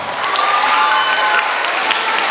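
Loud, steady applause from a large audience at a beauty pageant's national costume segment, dense clapping filling the whole stretch without a break.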